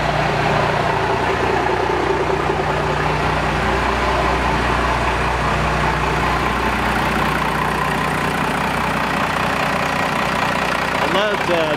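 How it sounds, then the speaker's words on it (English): A Dodge 2500 4x4 truck's 12-valve diesel engine idles steadily after a cold start, a loud, continuous low rumble that stays even from start to finish with no voices over it. "we had a couple people ask for a cold start video, so we're going to do it right now. She fires right up."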